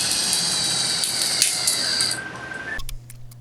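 A power drill drives 1-inch screws into wood framing for a workshop workbench, whirring loudly and close, then winding down as a screw seats, followed by a few faint knocks.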